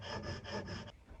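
A narrow-kerf hand saw cuts the corner off a wooden box, making quiet, steady rasping strokes in an even rhythm that stop abruptly near the end.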